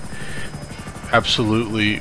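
FH-1 Hunter and Akula helicopters race in GTA 5 Online, with a steady rhythmic rotor chop throughout and a voice talking over the second half.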